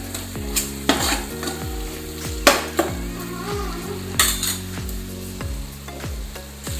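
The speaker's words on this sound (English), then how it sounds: "let's give it a mix." Mutton biryani masala with chopped tomatoes stirred in a pot, a spoon scraping in steady repeated strokes over a constant close sizzle and frying crackle, with occasional clinks against the metal.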